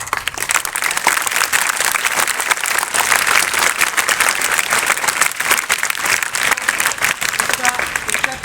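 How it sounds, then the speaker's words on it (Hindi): Sustained applause from an audience at a school event, steady dense clapping filling the whole stretch, loud and continuous with crowd noise underneath. "ये तालियां मेरे लिए नहीं है"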